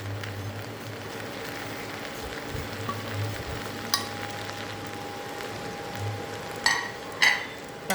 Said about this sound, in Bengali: চাপা দিয়ে দিয়ে কিন্তু এটাকে ভাজতে হবে, একদম জল দেওয়া যাবে না